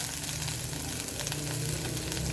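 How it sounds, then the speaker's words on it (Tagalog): Garlic and onion sautéing in a pan for laing with pork, a steady dense sizzle close by that holds even from start to finish with no talking. "Nagigisa na tayo. Bawang, sibuyas."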